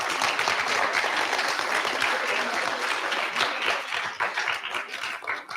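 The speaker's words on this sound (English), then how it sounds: "You can clap." An audience claps at a session, a sustained wash of applause that thins into sparser, uneven individual claps toward the end.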